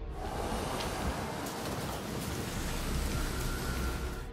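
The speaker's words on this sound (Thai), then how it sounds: "เซนัวก็ยังต้องเผชิญกับลมและฝนที่พัดพาเข้ามา" Wind and rain from the video game Senua's Saga: Hellblade II form a continuous, dense hiss and rumble of storm ambience, even and unbroken throughout, with no voices over it.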